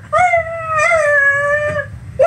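A dog on a radio show gives a loud, sustained howl that bends slightly in pitch and lasts nearly two seconds, with a brief start and another short yelp at the end and no talking over it.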